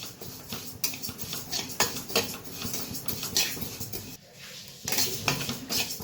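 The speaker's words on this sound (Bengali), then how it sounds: "মুগ ডালটা ভেজে নিই।" Dry moong dal tossed in a hot wok gives a close, busy rattle of grains and repeated metallic spatula scrapes and clinks, pausing briefly before resuming.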